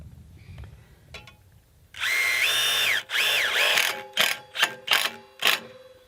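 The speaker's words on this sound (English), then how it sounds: "then just using an impact driver, because these are the way to go, we'll just stick it through" An impact driver sinks a self-tapping screw through a metal joist bracket for a garden shed floor, giving a loud, sustained ratcheting hammer for about a second, then a pause and several shorter bursts as the screw seats.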